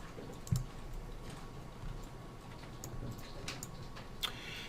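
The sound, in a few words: computer mouse clicking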